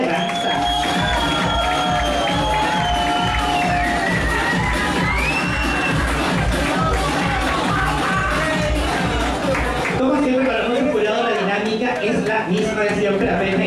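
A studio audience at a televised singing competition cheers and applauds loudly and continuously, with whoops and shouts over backing music and a presenter talking throughout.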